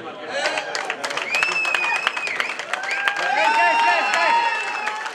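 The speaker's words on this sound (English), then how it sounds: "Give them a hand of applause" A crowd applauds at a Florida cricket association award ceremony, sustained clapping with whistles and cheers rising over it as voices carry on in the background.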